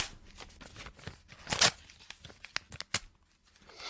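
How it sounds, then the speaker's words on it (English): A paper script sheet torn up by hand close to the microphone, with a run of crisp ripping and crinkling bursts, one loud tear in the middle and several sharper rips after it, no talking. "That's the sound of me tearing it up."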